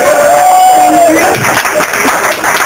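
Scattered applause and cheering from a comedy club audience at Zanie's in Chicago, fairly loud and continuous, with a whistle-like tone and crowd noise mixed through it.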